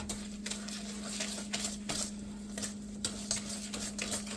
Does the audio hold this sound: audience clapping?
no